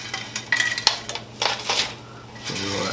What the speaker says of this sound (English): So we're going to go ahead and add the pasta in